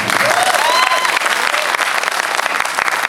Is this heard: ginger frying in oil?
no